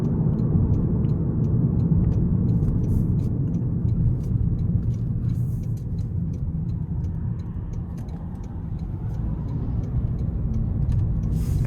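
Steady low engine rumble and road noise from a 2025 Toyota Corolla SE accelerating in normal mode, heard continuously from inside the cabin with no talking.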